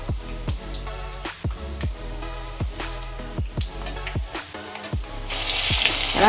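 Ginger garlic paste sizzling in hot oil in a pan with peanuts, urad dal, chana dal and curry leaves, a steady close frying hiss broken by repeated sharp stirring scrapes, growing louder and brighter near the end.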